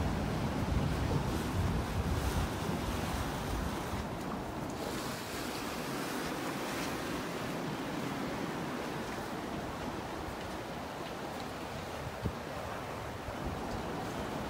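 Ocean surf rolls onto the beach at Naples Pier in a continuous loud wash, with gusting wind buffeting the microphone throughout and no voices.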